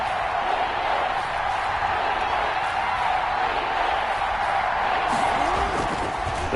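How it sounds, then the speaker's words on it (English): Football stadium crowd in the Madden video game, a dense, continuous roar of cheering that holds at an even, loud level throughout without breaks. "the crowd getting into it as we come up on a big 3rd down"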